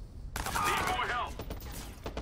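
Gunfire in the video game Watch Dogs erupts as a dense, rapid volley of sharp shots, loud and close, crackling through the whole short moment.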